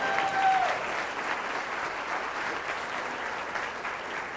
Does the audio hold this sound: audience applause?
yes